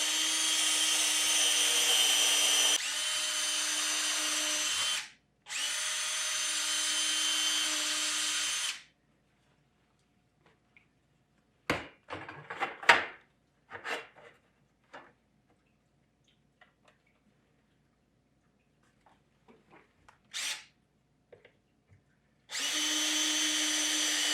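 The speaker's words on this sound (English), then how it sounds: "you want to pre-drill this with a 9/64 drill bit" A power drill pre-drills wood with a 9/64 bit, whirring in several sustained bursts, pausing amid scattered knocks and clicks, then spinning up again.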